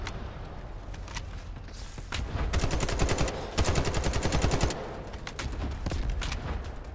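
Rapid bursts of automatic gunfire rattle in the Delta Force video game, dense volleys of close shots with short pauses between them, the heaviest stretch in the middle, no talking.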